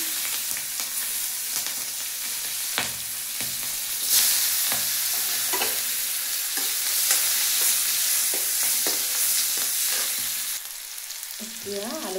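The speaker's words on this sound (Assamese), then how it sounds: "দিওঁ পিঁয়াজ জলকীয়া," Onions and green chillies fry in a pan with cumin seeds in hot oil, giving a loud, steady sizzle broken by repeated scraping stir strokes throughout, with no voices.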